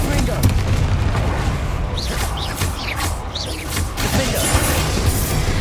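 Spell explosions from Confringo and Bombarda in the video game Hogwarts Legacy, with dense, loud rumbling booms and bursts layered with battle noise throughout, and a voice shouting over the blasts.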